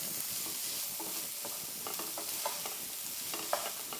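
Sago sundal being stirred in a pan makes soft, irregular scraping and shuffling strokes over a faint, even sizzle, fairly quiet and close, with no voices.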